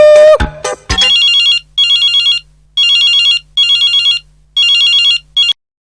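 A phone rings loudly in repeated electronic bursts with short pauses between them, after a brief jumble of sounds at the start.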